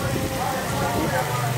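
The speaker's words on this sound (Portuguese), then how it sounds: "chovendo bastante aqui na cidade de Cajazeiras" Heavy rain falls steadily in Cajazeiras, Paraíba, Brazil, a dense patter on surfaces with a constant rushing wash, close and fairly loud.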